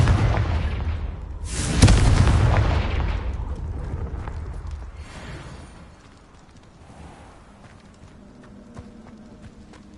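An explosive Confringo spell in Hogwarts Legacy erupts as a loud booming burst early on, its rumble decaying gradually into quieter background game sounds.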